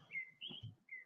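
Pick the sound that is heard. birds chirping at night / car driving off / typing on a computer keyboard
birds chirping at night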